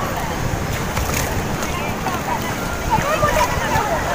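Sea waves wash onto a crowded public beach beside the Kunkeshwar temple during the Mahashivratri fair, a steady roar and slosh under nearby voices and crowd chatter.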